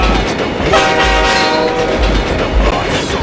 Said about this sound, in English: Percy, there's an oncoming train.